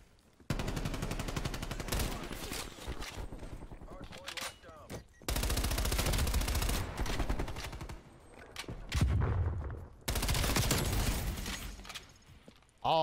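An MP5 submachine gun in a video game fires in three long, loud automatic bursts of rapid shots with brief pauses between them.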